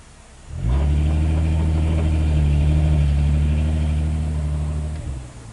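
A Volkswagen MK5 with a DSG gearbox revs hard in manual mode during a failed launch attempt, the engine note rising to a sustained loud drone for about four seconds before cutting off, with no one talking.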